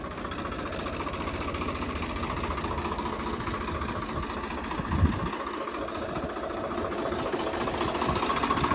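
A Swaraj 855 diesel tractor engine drones steadily at a low, even pitch throughout, with one brief dull thump partway through, while sowing wheat.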